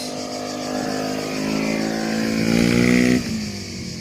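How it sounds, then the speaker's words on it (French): A scooter passes by outside during a presentation of a 2018 Beta Track RR 50 motorcycle, its buzzing engine rising as it approaches, peaking near, then cutting away quickly. "Ah, le scooter qui passe."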